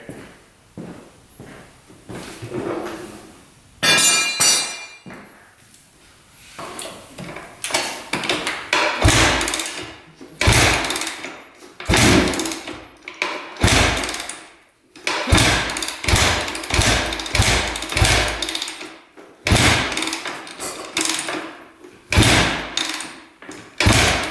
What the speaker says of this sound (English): Let's see if she fires up here.